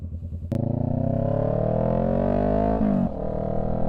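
A sport motorcycle engine catches with a sharp start, then revs in a rising, loud, close roar for a few seconds before easing back to a lower idle.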